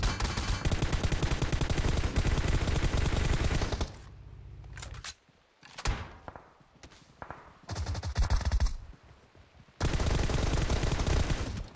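Rapid automatic gunfire from the BGMI battle royale game, long loud sustained bursts broken by a gap of scattered shots and quieter sounds before heavy firing resumes.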